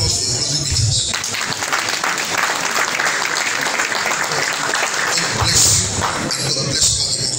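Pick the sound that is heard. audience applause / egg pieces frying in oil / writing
audience applause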